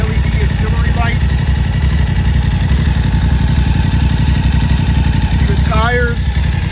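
A 2019 BMW F 850 GSA motorcycle idles at a dealership, its steady low engine rumble continuous and close, with people talking over it.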